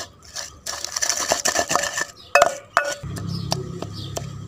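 Raw mango chutney stirred in a dish with a spoon, giving sharp metallic clinks and scraping taps against the bowl, close and fairly loud, with no talking.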